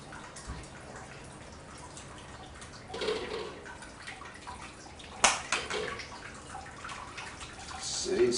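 Wort draining from a lifted malt pipe in a Braumeister 20-litre all-grain homebrew system, a continuous soft trickle and splash of liquid with occasional louder sloshes and a clank, close by.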